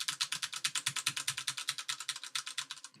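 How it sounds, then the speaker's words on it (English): Computer keyboard keys clack rapidly and steadily at close range, a dense run of sharp clicks with no voices, picked up by a streaming microphone before noise suppression. "You can hear keyboard clacking."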